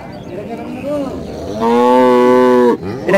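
A red cow at a cattle market lets out a loud, close moo, rising into a long sustained bellow before breaking off.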